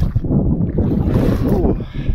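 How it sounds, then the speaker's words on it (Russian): Gusty wind buffets the microphone beside a northern lake where fishing nets are set, a steady low roar rising and falling in gusts throughout, with faint water movement underneath. "Порывистый ветер."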